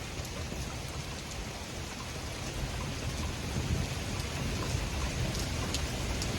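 Heavy rain pours steadily during a severe supercell thunderstorm over the Queen City, a dense, continuous hiss close by that swells slightly louder partway through, with no voices.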